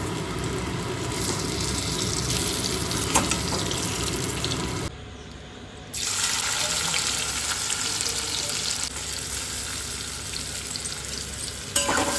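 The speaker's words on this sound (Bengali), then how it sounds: "আর এখন একটুখানি ভাজার সময় দিয়ে দিচ্ছি" Potatoes fry in oil for biryani in a home kitchen, a loud continuous hissing sizzle close by that drops away briefly midway, then resumes with occasional clinks of stirring.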